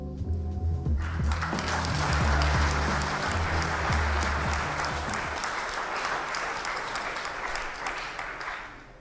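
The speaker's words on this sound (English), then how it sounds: "Why are you applauding that?" A large audience bursts into sustained, loud applause that fills the room, with dense clapping that slowly thins and fades toward the end.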